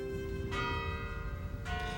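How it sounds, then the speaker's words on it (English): Church bells of St. Michael's in Old Town, Chicago, ringing out with two clear strikes about a second apart, each leaving a long, ringing hum over a low background rumble. "It's said that if you can hear the bells of St. Michael's, you know you're in Old Town."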